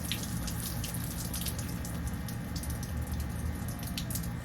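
Water sprays steadily from a newly installed Hibbent all-metal 10-inch filtered rainfall shower head combo, a continuous close hiss with faint dripping and splashing throughout.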